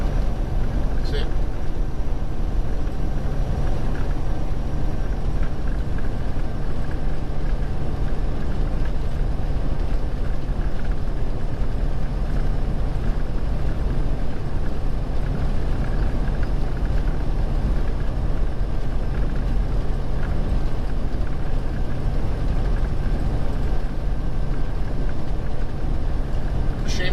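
A car driving on an Arizona road, a steady, continuous rumble of engine and road noise that holds evenly from start to finish with no breaks.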